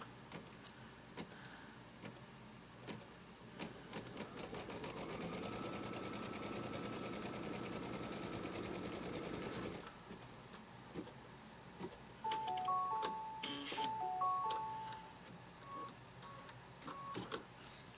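An embroidery machine stitches a tack-down on a quilt block hooped in place, running steadily and close for about ten seconds, then stopping, followed by a few quieter mechanical clicks and short beeps.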